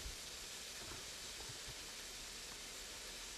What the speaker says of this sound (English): we're going to toss our steak in our pan. If it's ready, our skillet there.